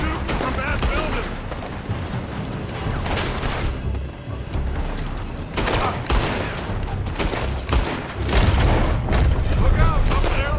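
Heavy gunfire pours from a building in a Red Dead Redemption 2 shootout, loud overlapping shots and booming bursts in rapid volleys with brief lulls, continuing throughout.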